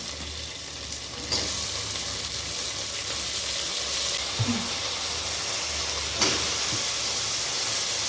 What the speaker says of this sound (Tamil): உருளைக்கிழங்கு, கத்திரிக்காய். இது கொஞ்சம் நேரம் எண்ணெயில் வதக்கு முன்னாடி